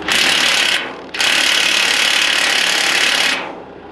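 An impact wrench or ratchet tightening bolts on an old crane boom and clutch, two loud continuous whirring bursts separated by a short pause, close up and alone.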